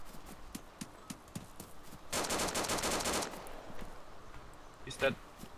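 Rapid automatic gunfire in the DayZ video game cuts loose in a dense burst of shots lasting about a second, preceded by scattered lighter clicks and followed by a single louder shot near the end, with voices faintly underneath.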